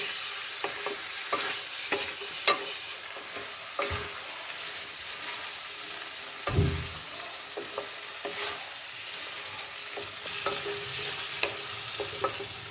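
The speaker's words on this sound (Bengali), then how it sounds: "তো মশলাটাকে আমি ভালো করে কষিয়ে নেব এবং কষাতে কষাতেই আমার আলুটা কিন্তু ভালো মতো সেদ্ধ হয়েই যাবে।" Spice paste and potatoes, destined for a cabbage curry, are stir-fried in a pan, giving a steady close sizzle broken by repeated scraping strokes and thuds of the spatula, with no voices.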